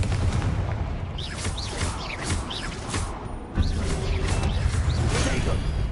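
A Confringo blasting spell cast in a spellcasting video game sets off booming, whooshing magical effects over a steady rumbling background, with a sharp burst near the middle and spoken voices mixed in.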